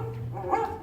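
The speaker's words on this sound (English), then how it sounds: "Don't worry, Rover." A dog barks once or twice in an animatronic stage show, the bark sitting mid-clip over a steady mechanical hum and background show sound.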